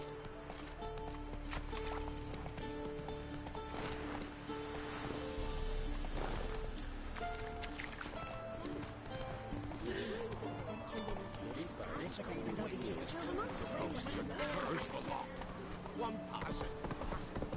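A horse gallops in The Witcher 3, a steady rhythmic beat of hooves under game music and ambient sound, with a voice speaking briefly partway through.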